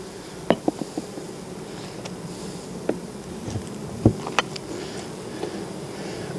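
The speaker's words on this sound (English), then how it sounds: "Oh, very busy hive." Close, steady hum of honeybees buzzing around a busy open hive, with occasional sharper clicks and knocks from handling the hive scattered throughout.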